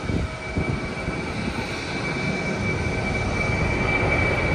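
A JAL airliner taking off at Haneda Airport, heard as a steady, loud, broadband engine roar with a faint high whine, sustained throughout without talk.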